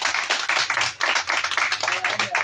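A church congregation claps together during a worship service, loud and close, with dense broadband hand-clapping forming rough rhythmic pulses throughout, while a faint low hum sits underneath.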